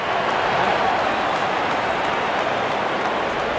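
Cricket stadium crowd cheering a wicket at a T20 World Cup match between Bangladesh and Sri Lanka, a loud dense roar of cheering and applause sustained throughout.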